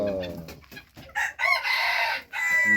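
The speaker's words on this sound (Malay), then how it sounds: "Si ayam serama." A Serama chicken crows at close range, a loud drawn-out cock-a-doodle-doo that follows a few clucks and a brief voice, then breaks off and resumes.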